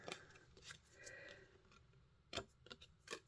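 Scissors snipping through paper while trimming a shape for a handmade St Patrick's Day shaker card, a few quiet, crisp cuts in short bursts with pauses between them, close and faint.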